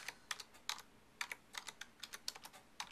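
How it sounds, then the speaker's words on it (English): Quiet bursts of keystrokes on a computer keyboard, clustered taps in irregular runs with short pauses, close and soft with no voices. "I am going to just type"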